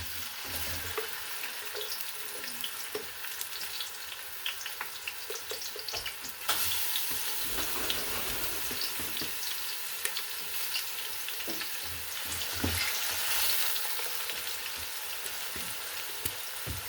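Onion fries in plenty of oil for stuffed cabbage, a continuous close sizzle with scattered crackles and occasional stirring or water clatter, growing busier midway, without any talking.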